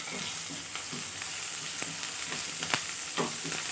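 Curry leaves, mint and coriander leaves sizzle in hot oil for an onion chutney, making a close, steady hiss with a few small pops over a few seconds, with no voices.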